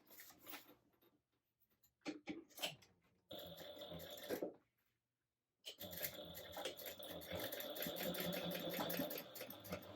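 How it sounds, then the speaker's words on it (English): A sewing machine runs top stitching along fabric at an eighth-inch seam allowance, starting in short bursts, pausing briefly, then running steadily and loud for several seconds. "you will go ahead and top stitch right along here at 1/8 of an inch seam allowance."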